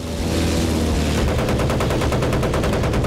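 Battlefield 1943 gunfire roars in a dense, continuous burst of rapid machine-gun fire. It is loud and close and fills the short clip without a pause.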